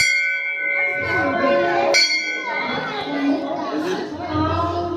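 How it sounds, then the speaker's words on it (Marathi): A temple bell rings out with a bright, lingering metallic tone amid steady crowd chatter, struck again partway through. "ते घंटा आहे"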